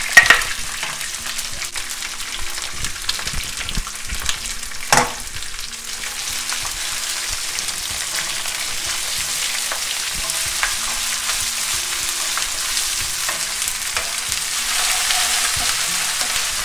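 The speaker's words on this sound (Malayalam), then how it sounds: "ഇനി നമുക്ക് ഇതിലേക്ക് നമ്മൾ ആ ചതച്ച് വെച്ചിരിക്കുന്ന ഇഞ്ചിയും വെളുത്തുള്ളിയും രണ്ടിലേക്ക് ഇട്ട് കൊടുക്കുക." Crushed ginger and garlic fry in hot oil in a pan, a sharp crackle at first settling into a steady close sizzle with occasional stirring clicks, no voices.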